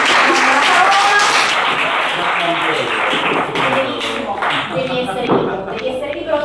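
An audience at a book talk with teachers and students claps to welcome a speaker, moderately loud applause that fades gradually, with voices talking over it.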